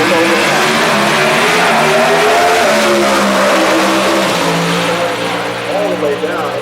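NHRA pro drag racing cars accelerate down the track at Houston Raceway Park during Friday pro qualifying, a loud, sustained engine roar with rising and shifting tones that fills the whole stretch and tails off slightly near the end.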